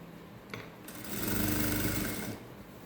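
A sewing machine stitching a sleeve onto a peplum top, running in one steady whirring burst of about a second and a half after a brief start, close and clear with no talking.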